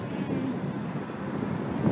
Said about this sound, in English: The last windy night.